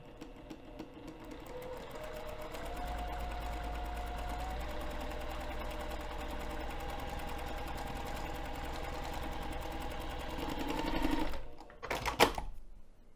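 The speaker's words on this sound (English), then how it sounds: "we're going to sew the lower edge using a longer basting stitch" A sewing machine runs a long basting stitch along the lower edge of mesh fabric, a steady rapid mechanical whir for about eleven seconds, then stops with a few clicks; no talking.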